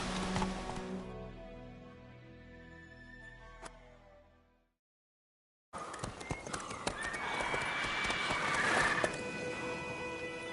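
Roach the horse gallops in a Witcher video game, with steady clip-clop hoofbeats and snorting under game ambience. The hoofbeats break off into a second of silence before a busier stretch of movement resumes.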